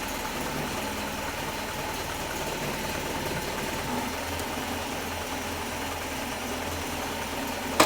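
A rebuilt Land Rover 2.25 engine runs at a steady, close idle with an even mechanical chatter and hum, uninterrupted throughout.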